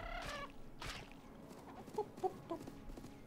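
Chickens clucking in the video game Tokyo Jungle, a few short soft clucks in quick succession after some brief louder game sounds.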